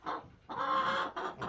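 A few chickens cluck and murmur close by in short bursts, fairly quiet and with no talking.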